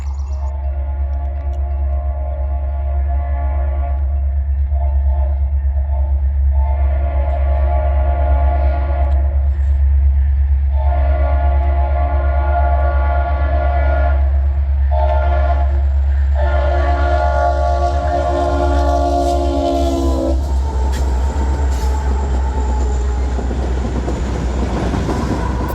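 A CSX freight train led by six locomotives, including an ex-MEC C40-8W and a Savannah and Atlanta heritage unit, rumbles past with a deep engine drone, repeated long horn blasts, then clattering wagons.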